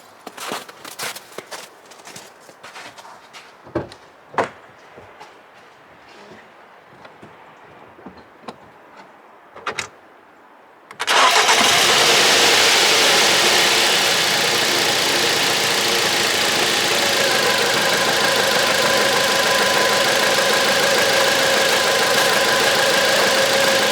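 2009 Volvo V70 with a cylinder 3 misfire fault and that cylinder's ignition coil unplugged: quiet clicks and footsteps, then the engine starts about halfway through and idles loudly and steadily up close.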